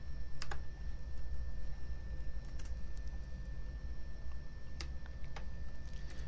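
Typing on a computer keyboard: scattered, fairly close key clicks come in short bursts over a quiet, steady background hum, with no voices.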